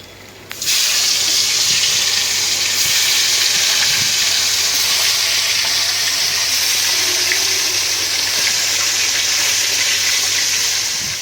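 Onions dropped into leftover fish-frying oil, a loud continuous hiss starting abruptly after a short pause and holding steady and close, with a low hum underneath.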